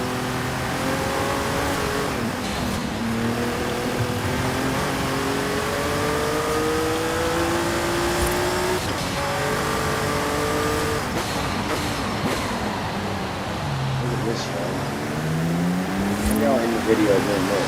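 A car engine in Forza Horizon 5 drives across sand, revving up and down through gear changes in a steady loud drone, with a voice talking over it at times.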